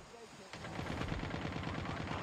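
Gunfire in an online shooter match erupts into a rapid, steady automatic burst after a brief quieter lead-in. It is close and dense, with a faint voice under it.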